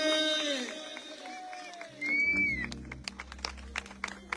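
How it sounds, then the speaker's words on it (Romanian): Wedding guests applauding a bride and groom, dense clapping and crowd noise rising suddenly after a stretch of amplified singing and speech, with a voice still talking over the applause. "Aplaudați mirii!"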